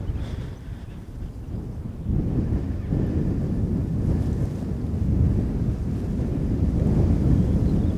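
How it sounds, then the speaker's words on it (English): Outdoor wind on a mound by Harewood Road buffets the microphone in a loud, low, rumbling roar that swells in gusts and stays steady throughout, with no voices. "You can hear the wind is blowing a bit."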